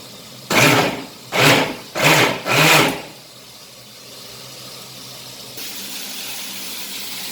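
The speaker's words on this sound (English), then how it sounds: "So I'll do a grinding of the gravy. So onions, tomatoes, little of garlic and cashews and poppy seeds as well. So I'll grind it" A kitchen mixer grinder blending onions, tomatoes, garlic, cashews and poppy seeds into a curry gravy paste, running in four short loud pulses, then quiet background noise.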